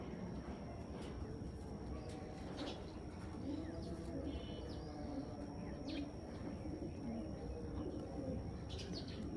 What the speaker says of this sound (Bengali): এই হলো কবুতরটার